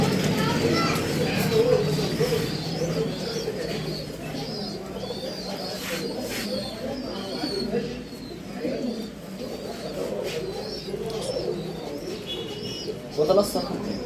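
Pigeons of a fancy breed coo in a loft, their low warbling calls running through the scene under and between steady nearby conversation, with occasional chirps and a brief louder burst near the end.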